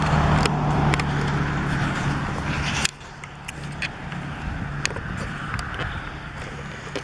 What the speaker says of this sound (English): that's the first car I've seen in the few minutes I've been here